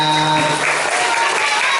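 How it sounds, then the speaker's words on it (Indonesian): A seated audience of schoolchildren claps in a steady, dense burst of applause that fills the room throughout, with no break. "Tepuk tangan untuk kita semuanya"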